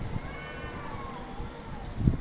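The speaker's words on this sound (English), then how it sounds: "Even the cats are going crazy." Cats meowing indoors, a drawn-out wavering meow heard faintly under low background noise with some bumps, no speech.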